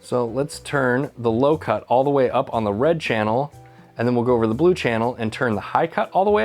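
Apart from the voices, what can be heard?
None of the usual background noises is heard.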